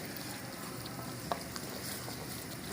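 Spice masala frying in a pan for a smoked dahi kaleji liver curry, giving a quiet, steady sizzle and crackle with a brief stir or clink partway through.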